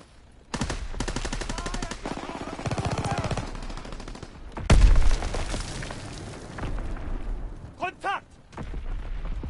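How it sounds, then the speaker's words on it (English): Machine-gun fire from a strafing run in Call of Duty WW2, long loud rattling bursts and a heavy blast, with voices shouting between volleys. "Strafing run inbound."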